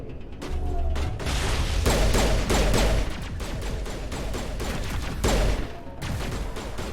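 Video game gunfire in Mass Effect Legendary Edition, repeated sharp shots and bursts with heavy low thumps and mechanical clanks, steady and dense throughout.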